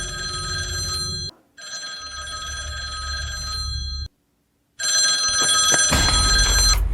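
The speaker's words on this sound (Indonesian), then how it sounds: "Si Seba pun kembali nelepon ke telepon rumah." A house telephone rings in repeated long, shrill electronic bursts separated by brief silences, loud and close with a low rumble underneath.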